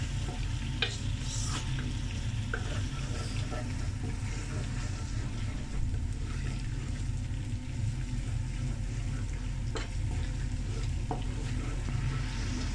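Spices frying in a pan with oil while being stirred for chicken jalfrezi, giving a steady close sizzle with scraping stir sounds running throughout.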